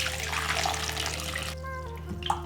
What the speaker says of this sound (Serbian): 2 limuna opraću sa soda bikarbonom i vodom.